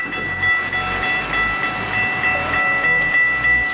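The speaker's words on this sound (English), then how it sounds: "the train wasn't very long, but at least I got in front of it before it crossed" A short train rolls through a crossing in Fairbanks, Alaska, its wheels thumping loudly and rhythmically over the rail joints while crossing bells ring steadily above the rumble.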